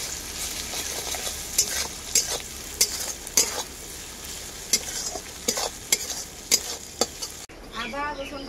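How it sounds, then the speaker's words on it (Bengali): Ginger-garlic paste and onion fry in a pan with a soft steady sizzle, while a spoon scrapes and stirs in regular sharp strokes, close up; a brief, different sound cuts in near the end. "আদা রসুনটা পেঁয়াজের সাথে আমি খুব ভালো করে ভেজে নিয়েছি।"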